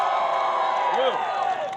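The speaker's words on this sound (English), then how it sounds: "if you are graduating school today, please make some noise" Graduating high school students at a graduation ceremony cheer, shout and whoop in a dense, sustained crowd roar, with light clapping mixed in and a voice rising briefly above the din.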